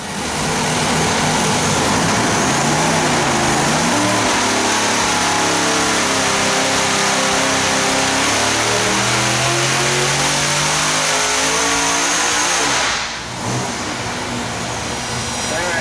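A 2,700+ hp big-block Chevy engine on a dyno roars and climbs steadily through its revs at full volume, rising in pitch for several seconds before abruptly cutting back to a lower rumble.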